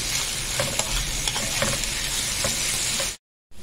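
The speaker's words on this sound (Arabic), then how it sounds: "السمنة ساحت معايا بقى، هنزل ايه الفراخ بتاعتي" Chicken sizzling in melted ghee with onions in a pan, a steady close frying hiss with light stirring clatter, ending abruptly in silence.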